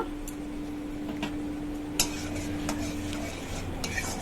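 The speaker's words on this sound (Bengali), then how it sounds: "আবার ভালো করে কষাতে থাকলাম সব কিছু একসঙ্গে যতক্ষণ না পেঁয়াজের কাঁচা গন্ধটা চলে যায়" Onions cook in a pan with salt, turmeric, chili, coriander and cumin powder, giving a faint, steady sizzle broken by occasional clicks and taps of a spoon against the pan, heard up close.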